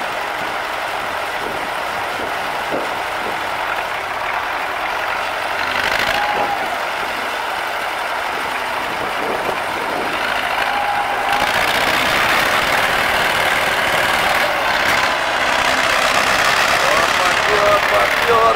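An MTZ-80 tractor hauling a full trailer of manure strains under load, its steady engine drone building louder toward the end, with people talking over it throughout.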